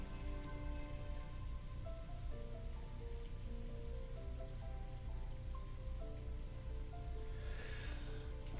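Soft, steady rain falls continuously in a scene from the visual novel Umineko, with a sustained hiss of drops on a surface under quiet tonal music.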